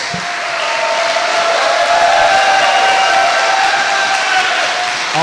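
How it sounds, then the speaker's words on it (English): An audience at a HEMA longsword tournament applauds the judges, a steady wash of many hands clapping loudly throughout, with some crowd cheering mixed in. "a big round of applause for all our judges"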